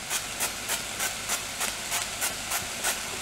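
Fry Light low-calorie cooking oil spray is pumped into a pan as beef browns for a slow cooker stew, giving a steady series of about ten short, bright hissing spurts.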